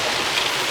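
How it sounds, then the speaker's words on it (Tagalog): Heavy rain pours down steadily outdoors, a dense constant hiss with no pauses and no voices. "Lakas ng ulan grabe."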